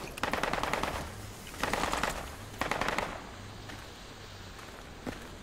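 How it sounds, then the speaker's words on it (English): Enemy gunfire close by in a video game, three loud bursts of rapid automatic fire roughly a second apart, followed by quieter ambience and a faint single shot. "It's enemy fire really close."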